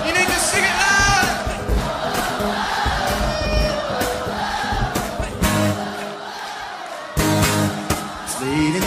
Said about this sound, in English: we are going to scream as loud as we can